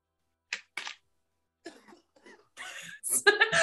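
A person coughs in a few short bursts after water goes down the wrong pipe, then breaks into louder, rougher coughing and sputtering near the close.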